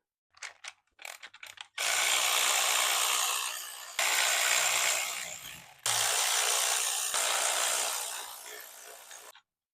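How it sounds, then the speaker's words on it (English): A power screwdriver backs screws out of a plate on a Permobil M3 wheelchair: a few short ratcheting clicks, then three long steady whirring runs, close and fairly loud. "just going to go ahead and remove these 2 screws over here and these 2 over here"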